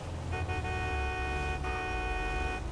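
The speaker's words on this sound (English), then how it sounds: "You can honk all you want." Car horn honking in a police roleplay video game, a loud sustained blast with brief breaks under a steady engine rumble from inside the vehicle.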